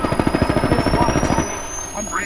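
Rapid automatic gunfire in the video game Apex Legends, a fast rhythmic burst of close, loud shots lasting over a second, then dying away into a quieter game background.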